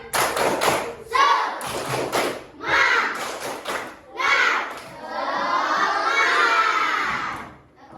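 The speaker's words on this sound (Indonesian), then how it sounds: "Ulangi lagi. Tepuk semangat." Schoolchildren in a classroom perform the tepuk semangat clapping chant, bursts of rhythmic claps and thumps alternating with loud group shouting, ending in a long sustained cheer.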